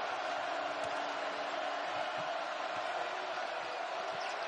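A basketball arena crowd at a Nebraska versus Purdue college game keeps up a steady, dense roar of cheering and shouting, with faint thuds of a bouncing ball underneath.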